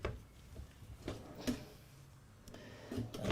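A few soft thuds and light clicks of large storage drawers in a 2022 Winnebago Navion 24D motorhome sliding and bumping shut, spaced out over a few seconds in a quiet interior.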